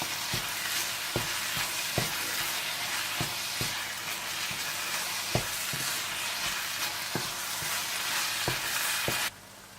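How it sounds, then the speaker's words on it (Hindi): Minced meat keema with cumin, crushed black pepper, dried fenugreek and red chilli frying in a karahi, a dense continuous sizzle punctuated by regular metallic clinks of the spatula stirring, then cutting off at the end. "इन्हें डालकर अच्छी तरह से मिक्स कर लें और थोड़ा सा और भून लें"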